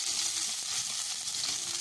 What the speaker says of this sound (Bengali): এবার এর ভিতরে দিয়ে দিব আমি পেঁয়াজ কুচি দিয়ে এটা আমরা ভালোভাবে নাড়তে থাকবো যতক্ষণ না এটা বাদামি কালার হয়ে যাচ্ছে।